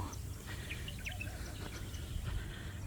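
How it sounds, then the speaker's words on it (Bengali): Faint, scattered morning bird chirps and tweets over a steady outdoor hiss in Abu Dhabi, distant and intermittent, with no voices. "সকালবেলার পরিবেশ পাখির ডাক চিচিমিচি শব্দ"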